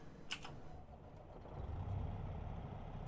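A faint click, then a low semi-truck engine in the video game American Truck Simulator turns over and settles into a steady, deep rumble.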